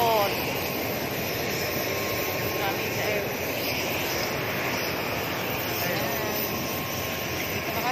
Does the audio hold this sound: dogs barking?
no